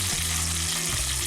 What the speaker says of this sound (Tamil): ரோஸ்ட் மாதிரி வர்றதுக்காக பேனில் கொஞ்சம் வேக வைக்கணும்.